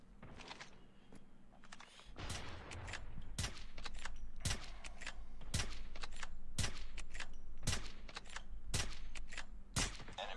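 Sniper gunfire in the mobile video game Call of Duty Mobile cracks out as a string of sharp, evenly spaced shots over a low background rumble, with no voices.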